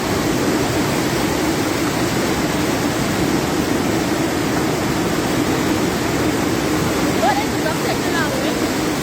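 Floodwater rushing in Grenada, a loud, steady roar of churning water that stays constant throughout, with people talking faintly beneath it.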